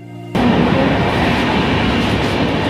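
After a brief quiet start, the Howrah Mumbai Mail runs past close by with a loud, continuous rumble and rattle of carriages on the rails.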